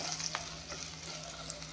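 Turmeric and cumin powder fry in oil in a pan, giving a soft, continuous sizzle with faint stirring scrapes, quiet and close, with no voices.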